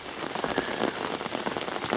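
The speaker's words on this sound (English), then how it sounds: "We got that tail end of that hurricane in the Atlantic, and well, it's not stopped raining." Steady rain falling at a canal fishery during the tail end of an Atlantic hurricane, a dense, continuous patter close by with no voices.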